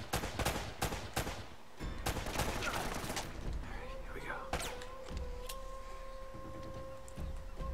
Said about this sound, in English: Why do I always get shot?